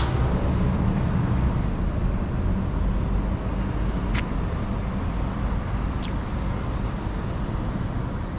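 A zero-emissions city bus idles in a steady loud roar on a downtown San Francisco street, with two sharp hissing air-brake releases cutting through the rumble.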